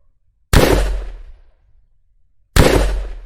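Two loud, close shotgun blasts from an Unreal Engine 4 third-person shooter game, about two seconds apart, each dying away into silence.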